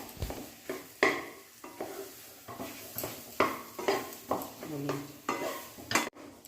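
A spatula stirs and scrapes a thick mash of sweet potato and carrots in a pan, making repeated close scraping strokes of varied loudness with a light sizzle underneath and no talking.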